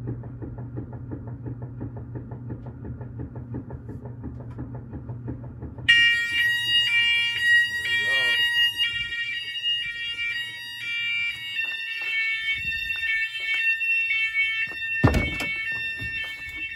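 A loud fire alarm sounds during a fire drill in a basement with concrete flooring and furnace ducts, its piercing repeated electronic tone starting abruptly after a low rumbling hum and continuing steadily with occasional knocks and thuds beneath it.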